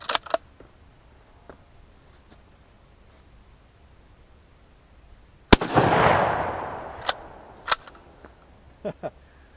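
A Terni Carcano 6.5x52mm rifle fires one loud, sharp shot that rings out and decays over about a second, followed by a few light metallic clicks from the action.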